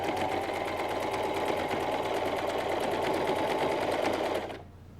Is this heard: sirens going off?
no